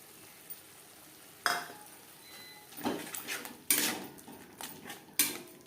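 Spice paste with a yogurt mixture worked in a pan over low to medium heat, soft sizzling beneath several distinct clanks and scrapes of a spoon against the metal, spaced irregularly, no talking.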